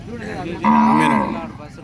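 A cow lets out a single long, close moo amid low background murmur at a busy Saturday cattle market in Pebbair, where cows are bought and sold.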